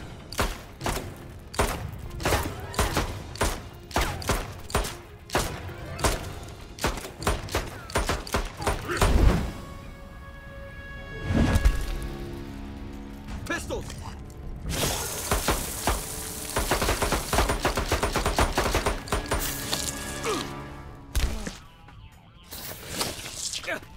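Rapid gunfire and impacts from a fight in Mortal Kombat 9 story mode, a dense run of sharp cracks and bursts with heavy thuds, mixed with game music and voices over the whole stretch.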